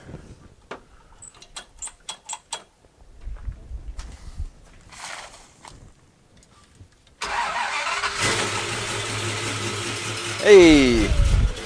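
A 1967 Dodge Dart with a 360 Mopar engine cranks with clicks and starter whirring, then fires up into a loud, rough idle and revs briefly, with people talking early on.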